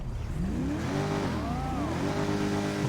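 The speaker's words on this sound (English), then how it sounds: "Sounds more like a muscle car" A video game car engine revs steadily in GTA 5, its pitch climbing and dipping as the throttle rises and eases, loud and continuous with a deep, throaty, muscle-car tone.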